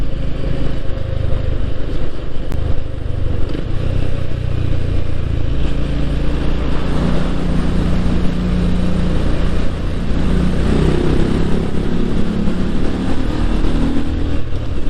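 A 2021 Honda GB350S single-cylinder motorcycle engine thrums loud and continuous, its low rumble booming and echoing inside a tunnel, with no talking.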